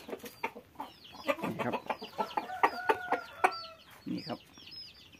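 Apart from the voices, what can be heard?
fighting cocks clucking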